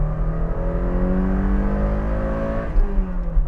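A Toyota sports car engine revs hard and close, its steady drone holding near-constant pitch before easing slightly near the end, loud and alone with no talking.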